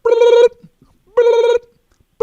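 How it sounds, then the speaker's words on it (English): A telephone rings in two full electronic bursts with a pause between them, and a third ring begins at the end; the rings are loud and clear with near silence in the gaps. "The phone rings."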